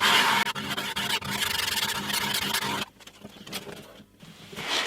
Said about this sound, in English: So I'm going to use a bit of sandpaper.